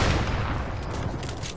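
Rifle fire in a shooting video game makes a dense, sustained roar of overlapping gunshots and blasts, loud and close throughout, with no voices over it.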